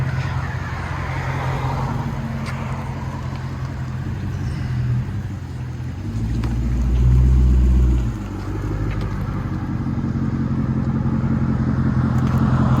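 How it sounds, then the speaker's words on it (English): A 2019 Dodge Durango R/T HEMI with Vibrant resonators, an X-pipe and 5-inch angle-cut tips rumbles at idle, then swells into a deeper, louder burst of exhaust for a couple of seconds before settling back to a steady drone. "Dodge Durango with vibrant mids, X-Pipe, and 5-inch angle cut"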